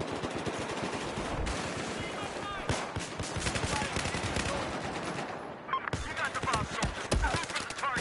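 Rapid bursts of automatic gunfire and scattered shots in the video game Battlefield 4, dense and continuous with a brief gap, mixed with game effects and players talking over it.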